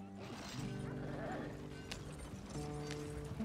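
Horses in Red Dead Redemption 2 clip-clop along at a walk, and one gives a clear neigh. The hoofbeats are fairly close and sit under people talking.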